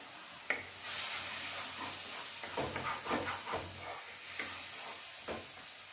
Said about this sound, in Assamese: এইটো ভালকৈ মছলাখিনি ভাজি লওঁ।